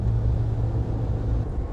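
Suzuki Jimny engine held at full throttle, a steady loud low rumble with road roar that stays constant through the short stretch and eases slightly near the end.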